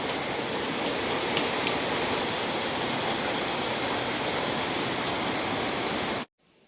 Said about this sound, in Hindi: और इतनी ज़ोर से बारिश हो रही है, ज़ोरों शोरों से।